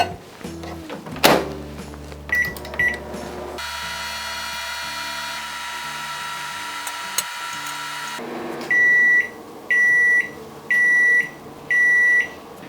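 A kitchen microwave oven heating an egg in a container hums steadily for several seconds after a few clicks. Four loud, evenly spaced completion beeps follow, ringing out clearly in a quiet room.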